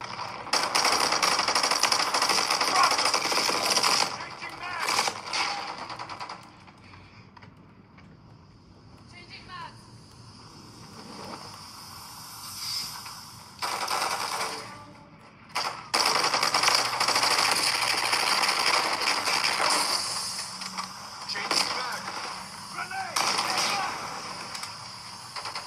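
Rapid mechanical bursts of video game gunfire from a cheap gaming tablet's built-in speaker, loud and sustained with brief dips, a voice talking over parts of it.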